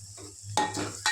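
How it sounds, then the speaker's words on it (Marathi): Spice masala frying in a pan as salt is added, with scraping and stirring bursts over a low sizzle, close and with no voices. "मसाला भाजत आला त्याच्यात आता आपण मीठ घालायचं"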